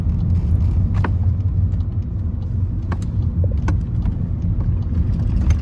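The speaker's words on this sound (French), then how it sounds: "je vais prendre un petit peu de vitesse lors du rond-point" A Volkswagen Golf 8 GTD with a 2.0 TDI diesel and DSG7 automatic gearbox accelerating through a roundabout, heard from inside as a steady, loud low engine rumble with faint clicks and rattles.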